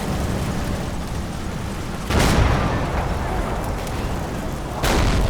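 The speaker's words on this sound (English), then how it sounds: "we've got a Panzer IV firing back" A Panzer IV tank gun fires twice in a WWII Normandy battle game, two loud broadband booms a few seconds apart over a constant heavy rumble of battlefield noise.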